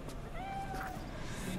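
A cat meows in the game Cyberpunk, one drawn-out, rising-then-falling call heard fairly close over a steady bed of game ambience and background noise.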